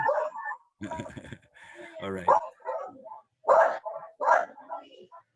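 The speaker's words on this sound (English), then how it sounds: "Is it a dog barking?" A dog barks several times at moderate distance, short sharp yaps in bursts, with a person speaking briefly in between.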